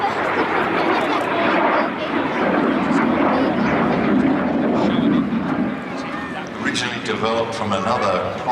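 A Folland Gnat supersonic jet trainer flying at an airshow, a loud sustained jet roar that swells and fades slightly, with a voice talking over it.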